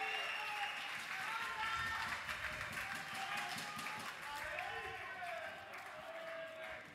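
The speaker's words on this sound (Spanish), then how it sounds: "¡Un aplauso! ¡Grande Vudú!" Crowd applause and cheering for Vudú, a star player introduced before a Counter-Strike: Source grand final between AURORA Gaming and 34united at the EPS IX event, sustained and dense throughout with voices mixed into the noise.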